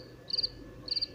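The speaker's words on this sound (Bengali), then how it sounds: "আশেপাশে শুধু ঝিঝি পোকার ডাক" Crickets chirping at night in a quiet outdoor setting: two short, bright trilling bursts about half a second apart over a faint low background.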